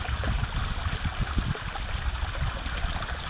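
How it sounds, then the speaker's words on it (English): Water runs in a steady, close trickle through a filter into a bottle, refilled outdoors on a trek across Scotland, with a continuous splashing flow and no voices. "Just gonna fill up with water using this water filter that Tom kindly gave me at the beginning of the mission."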